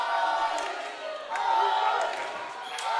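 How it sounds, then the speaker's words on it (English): Argentinian spectators at a women's foam dodgeball world championship match against Mexico cheer and shout together in a sustained, swelling crowd roar, steady and fairly loud throughout with rises and dips. "But now we hear the Argentinian crowd rallying around Viñas."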